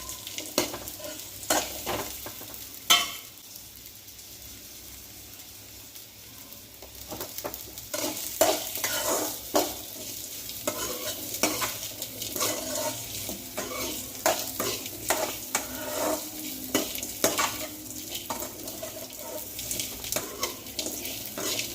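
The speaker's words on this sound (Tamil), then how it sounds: "அதை போட்டு நல்லா வணக்கி எடுத்துக்கணும்." Peeled, diced bottle gourd pieces sauté in a pan, a soft hiss at first that grows into a busier sizzle with repeated scraping stir strokes and faint running-water noise.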